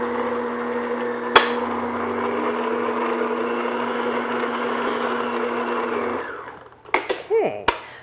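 Electric mixer beating one whole egg and one large room-temperature egg yolk into granola cookie dough, a steady loud whir running for about six seconds before it cuts out, followed by a few clattering knocks.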